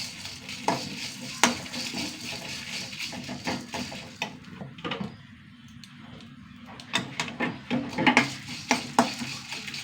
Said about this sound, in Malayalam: അഞ്ച് വറ്റൽ മുളക് ഒരു ടേബിൾ സ്പൂണ് മുഴുവൻ മല്ലിയിട്ടാണ് ഒന്ന് ചൂടാക്കി എടുക്കണം